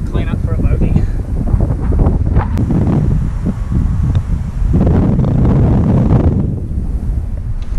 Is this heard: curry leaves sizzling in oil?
no